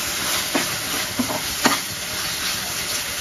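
Egg curry masala being stirred in a pan, a soft steady sizzle and hiss with a few faint spoon scrapes and taps, no voices.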